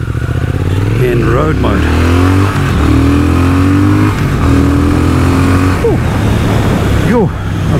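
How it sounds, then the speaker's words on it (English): A Triumph Speed Twin motorcycle in road mode rolls on the throttle, its engine note climbing and pulling up through gears with shifts between, loud and close, with someone talking over the ride. "Let's do a little bit of a roll on here"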